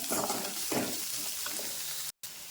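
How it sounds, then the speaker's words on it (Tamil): Onion and crushed garlic cloves sauté in a small amount of oil for a banana-flower stir-fry, a soft steady sizzle with a couple of stirring scrapes, close and quiet, cut by a brief dropout near the end. "வெங்காயம் இது கூடவே ஒரு 5 பல் பூண்டு தட்டி போடுறேன். அதையும் போட்டு நல்லா வதக்குங்க."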